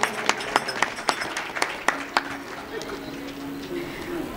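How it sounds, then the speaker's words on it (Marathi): An audience at a religious centenary festival claps for a bhajan singer, a run of sharp, scattered hand claps over the first two seconds that fades into murmuring and a soft room tone. "यासाठी माझ्या मते दीपकदादांसाठी परत एकदा आपण जोरदार टाळ्या वाजूया."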